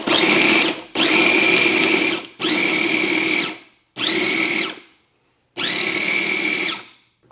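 A Cuisinart Elemental 4-cup chopper-grinder chops garlic in five loud, close pulses of motor whine, each lasting about a second, separated by short silent gaps.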